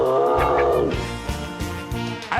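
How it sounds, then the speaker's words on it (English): A single drawn-out cat meow slides downward in pitch, loud and close, over a rhythmic background music track. "Meow!"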